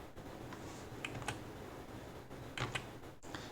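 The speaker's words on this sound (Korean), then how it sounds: "자, 키보드를 지금 누르고 있습니다." Quiet, irregular key presses on a computer keyboard, a few soft clicks in small clusters over faint steady background noise.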